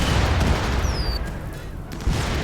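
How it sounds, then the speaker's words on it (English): Howitzer shells and fireworks exploding in RimWorld, a dense rumbling barrage of booms and crackles with a brief whistling streak, loud and continuous with a fresh blast near the end. "Oh no, there's like howitzer shells mixed in there."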